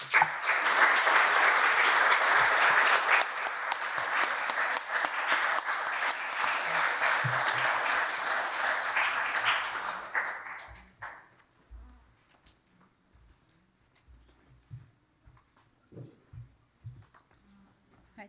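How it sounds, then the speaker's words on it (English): An audience gives a round of applause to panel members at a Pride 2022 event on LGBTQ+ professional inclusion. Loud, dense clapping holds for about ten seconds, then thins out into a few scattered claps and quiet room noise. "please could you give a round of applause for my panel members"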